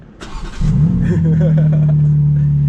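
A 2022 BMW M4 Competition G83 convertible fires up with a loud start: a short starter whir, then a sharp rev flare settling into a steady, deep idle close by.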